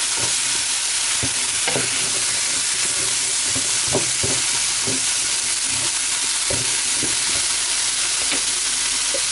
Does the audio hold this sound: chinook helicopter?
no